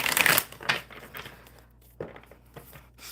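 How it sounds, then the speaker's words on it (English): A deck of oracle cards is shuffled by hand in a few quick rustling, papery bursts close up, loudest at the start and then fading into softer shuffles. "we'll start shuffling the deck."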